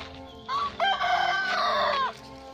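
A free-range village rooster crows once nearby among chickens, a long rising and falling cock-a-doodle-doo that rings out loud and clear over faint background noise.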